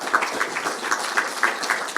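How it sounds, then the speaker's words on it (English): Audience applause for staff at a pancreatology AI bootcamp session, a steady patter of many hands clapping at moderate volume across the whole stretch, with no voices over it. "So let's give them a round of applause."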